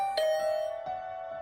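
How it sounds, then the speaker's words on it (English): A video game doorbell rings with two struck chime tones about two-thirds of a second apart, each leaving a steady ringing tone that sustains clearly and alone. "I just returned to my room when the doorbell rang."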